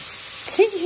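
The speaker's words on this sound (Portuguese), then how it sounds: "Era vapor de água." Water vapour hisses from cooking on a wood stove over a high fire, a soft steady breathy hiss that swells near the end, where a voice briefly cuts in.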